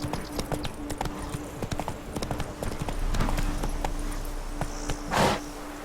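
Hooves of Roach, Geralt's horse in The Witcher 3: Blood and Wine, clip-clop at a steady gallop up close. A short louder burst comes near the end, and a low tonal hum sits under the hoofbeats.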